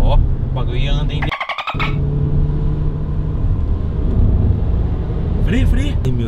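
A Chevrolet Cruze Turbo accelerates hard, its engine droning loud and close inside the cabin and climbing in pitch, with a brief dip partway through. Excited voices talk over the engine throughout.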